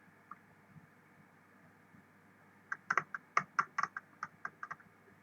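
Keys on a computer keyboard are struck in a quick burst of about a dozen close, crisp clicks after a couple of isolated taps in a quiet room.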